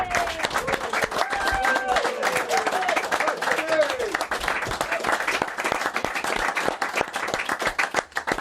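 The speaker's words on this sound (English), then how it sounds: "Give Judgy a big round of applause, everybody." Studio audience on a football TV show applauding a footballer guest, brisk dense clapping close by with whoops and voices over it, fading toward the end.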